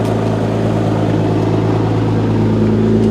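Nissan 350Z sports car engine with a new aftermarket exhaust, fitted with a Tomei differential, running at a steady idle: a loud, close, continuous low drone with a strong, even tone throughout.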